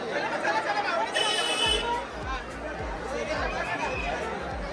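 Many people chatter at Jejuri temple, a steady close crowd murmur with overlapping voices and a few low thumps.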